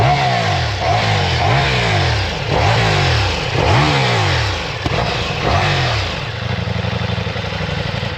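Ducati Diavel V4 motorcycle with stock exhaust revving loudly and close, several sharp throttle blips rising and falling in quick succession before settling into a steady idle.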